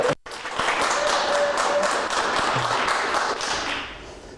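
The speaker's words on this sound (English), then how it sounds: "So yeah, a little studio round of applause for Maria." Small studio audience at a youth conference gives a brisk round of applause, a close, moderately loud patter of clapping hands that continues steadily after a brief opening thump and fades toward the end.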